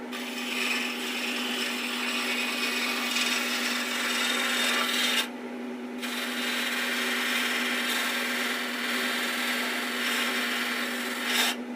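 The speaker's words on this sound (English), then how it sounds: "Then I just find it easier turning to my rounded scraper." A rounded scraper turns a wooden tent pole on a lathe, giving a continuous, close, loud scraping hiss over a steady motor hum, broken by one brief pause near the middle.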